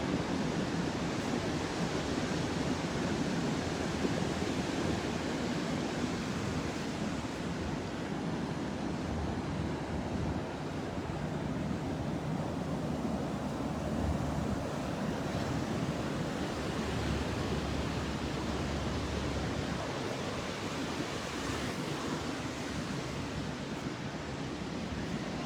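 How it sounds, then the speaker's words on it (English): Ocean waves breaking at Torrey Pines beach in California: a continuous broad roar of surf with swelling and receding wash, steady throughout, mixed with wind noise and no voices. "Wow, some of those are pretty big waves."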